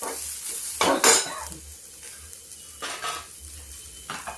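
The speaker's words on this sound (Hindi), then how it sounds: "प्याज थोड़ा और डालते हैं। इसको भून लेते हैं थोड़ा सा" Onions sautéing in a pan while being stirred, with soft sizzling and a few louder scraping, clinking strokes of a utensil against the pan at uneven intervals, close by and without talk.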